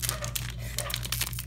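Crinkling and tearing of a foil Pokémon Sword and Shield trading card pack wrapper being worked open by hand, close and continuous with brief sharp rips, over a steady low hum.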